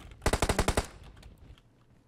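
A burst of about eight rapid automatic gunshots fires in the mobile battle-royale game PUBG Mobile, loud and close, with a short decaying tail and no voices.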